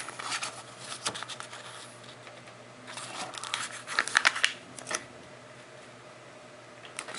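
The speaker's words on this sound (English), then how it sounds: "Second fold, we're going to take the tip and we're going to fold it from here" Paper is folded and creased to make a paper claw. Close, soft crinkles and rustles come in bursts, with a sharper run of crumpling and pressing near the middle and no speech.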